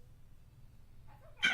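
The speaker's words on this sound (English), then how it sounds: "I thought I wanted an exotic breed of cat. Didn't realize how much they're fucking wild." An exotic-breed cat lets out a single short, sharp meow at the end, following a stretch of quiet low background hum indoors.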